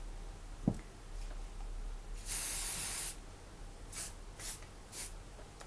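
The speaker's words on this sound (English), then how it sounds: "I like to spray each section with hairspray just so it gives a better hold." Short close bursts of hairspray hit a section of hair: one longer hiss followed by three brief puffs, over a quiet background.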